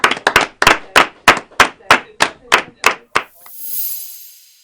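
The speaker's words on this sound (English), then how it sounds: "Let's clap that again, ladies and gentlemen." Audience clapping in unison at an awards ceremony: about eleven loud, evenly spaced claps close together, then a brief swell of scattered applause fading out.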